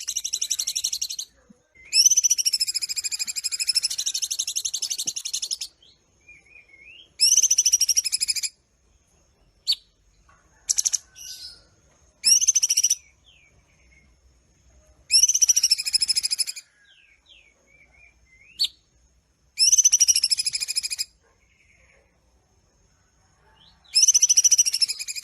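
A songbird known for mimicking other birds' calls sings loud bursts of rich, whistled, warbling phrases, each lasting a second or a few seconds, separated by silent pauses, with no voices.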